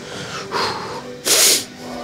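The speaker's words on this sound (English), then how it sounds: "get the sniffles out." Two sharp nasal sniffs from a person between sets of weight training, close and breathy, the second louder and hissier than the first, with no talking.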